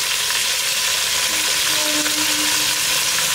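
Mutton sizzling in a pan with onions and ginger garlic paste, a steady close hiss and crackle of frying with faint stirring, no voices.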